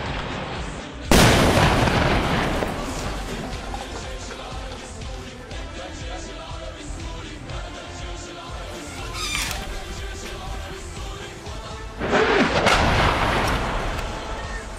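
120 mm mortar rounds landing close to a position in urban combat in Jobar, Syria: two heavy blasts roughly eleven seconds apart, each a loud sharp crack trailing into a long rumbling decay, with scattered distant fire between them.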